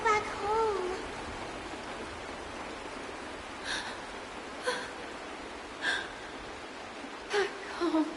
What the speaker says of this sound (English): It's raining! It's true!